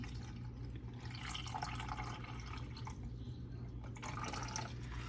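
Ice water is poured into a measuring cup in a home kitchen, a soft trickling splash over a constant low hum, quiet and close, with no talking.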